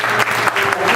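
Congregation applauding during a church service in a steady burst of clapping from many hands, close and full, with no talk over it.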